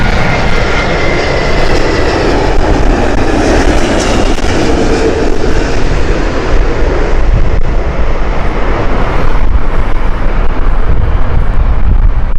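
A passenger aircraft landing at Heathrow in very strong wind roars loudly and steadily from start to finish, with a broad engine rumble and gusty buffeting across the microphone and no voices.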